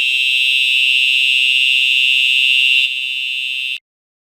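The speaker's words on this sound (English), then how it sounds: "I hope that's false alarm" Fire alarm sounding during a university lecture, a loud, steady high-pitched electronic tone lasting a few seconds, dropping slightly in level before cutting off abruptly, with no voices.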